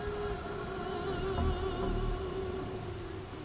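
Steady rain hisses and patters evenly throughout, swelling slightly in the middle, with no speech.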